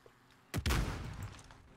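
Gunfire in Call of Duty, a short burst of shots after half a second of quiet, fairly faint and fading into a rumbling tail.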